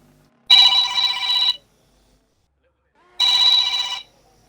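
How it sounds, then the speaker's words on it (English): A telephone rings very loudly in two long electronic bursts about a second each, separated by a pause, standing out clearly with no talk over it. "A very loud phone."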